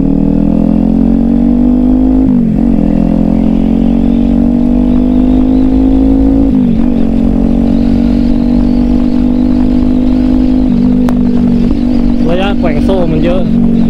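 Kawasaki Ninja 400 motorcycle ridden with a slack chain, its engine droning steadily at moderate revs with a few brief dips and rising shifts, close and loud, with wind noise throughout.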